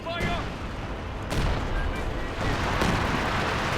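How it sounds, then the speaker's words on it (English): Support weapons in Company of Heroes 2, lined up British and US guns against German Wehrmacht and OKW forces, fire in dense overlapping bursts, loud and continuous battle noise with heavier thumps near 1.3 and 2.4 seconds. "Look at all these guys lined up firing their support guns"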